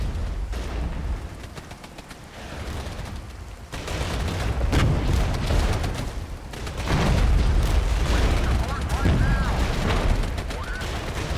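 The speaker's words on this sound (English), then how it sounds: "Maybe I can drop some artillery DPICM on some of this infantry." Artillery DPICM rounds burst over infantry in the Regiments war game, with dense crackling clusters of explosions and repeated booms over a constant roar of battle. Scattered gunfire mixes in, and faint voice chatter appears briefly.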